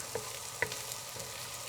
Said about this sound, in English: sauteing this about 2 or 3 more minutes